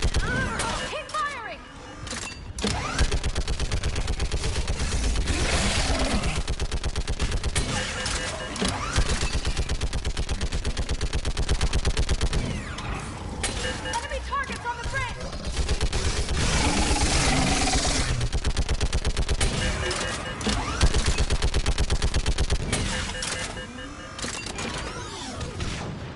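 Dense weapon fire crackles through a Mass Effect 3 battle on Thessia, bursts of shots and impacts layered over a constant roar of combat noise, with voices shouting orders in places.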